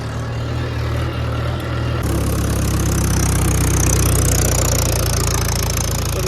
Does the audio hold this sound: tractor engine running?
yes